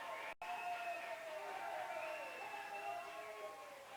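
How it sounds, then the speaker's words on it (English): Baseball crowd at a college game cheering and applauding after a called strike, a steady broad roar of many voices and claps at moderate distance, sustained throughout with a brief dropout near the start. "Looks like you got a standing ovation from the crowd as well for that final strike call."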